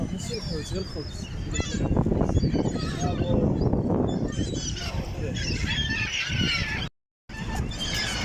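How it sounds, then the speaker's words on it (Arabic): Seagulls calling, a busy flock of overlapping squawks and cries close by and loud, mixed with people talking, with a brief cut to silence near the end. "نورس"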